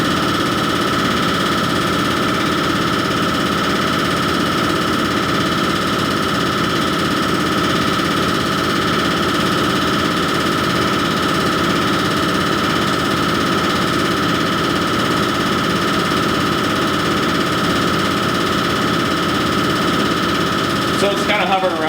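A diesel fuel injector runs steadily on a calibration test bench at 1700, giving a continuous mechanical hum and buzz with a dense, rapid rattling texture and no pauses.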